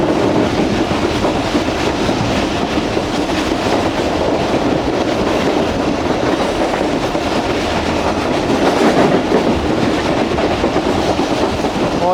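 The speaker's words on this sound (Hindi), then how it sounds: "अब हमारी ट्रेन मेन लाइन से शुरू कर रही है सरफराजा रेलवे स्टेशन से" The Tezgam passenger train runs on the main line out from Sarfaraza station, a loud, unbroken rumble of wheels and wagons with steady clickety-clack rhythm, heard up close from on board with no voices.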